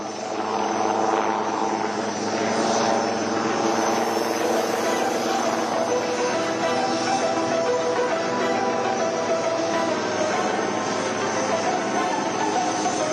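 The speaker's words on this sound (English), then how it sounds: "It's now readying to perform some lateral movement parallel to the runway, which will culminate in the majestic extreme tail-up maneuver." A military aircraft flies an extreme tail-up maneuver at the Aero India 2023 air show in Bengaluru, its engine making a loud, steady, continuous drone that holds throughout.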